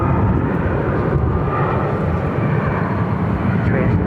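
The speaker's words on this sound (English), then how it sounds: "Southwest Airlines Flight 1770 headed in from Los Angeles." Southwest Airlines Boeing 737-800 arriving from Los Angeles at Phoenix airport, a broad, loud roar of jet engines washing steadily across the whole clip with no pauses.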